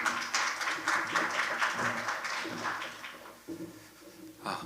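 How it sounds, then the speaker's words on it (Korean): Scattered audience applause at a capital-markets seminar, a moderate patter of clapping in a hall that fades within a few seconds, with faint room noise and a brief voice near the end. "박수로 모셔보도록 하겠습니다."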